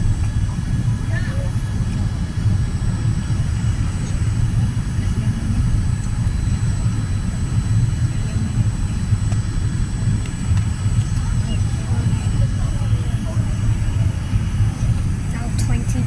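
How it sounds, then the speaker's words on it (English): Steady, loud broadband cabin rumble of a Singapore Airlines Boeing 787-10 airliner on landing approach at about 4,000 feet, continuous and unchanging throughout with no talk. "And we are approaching for landing."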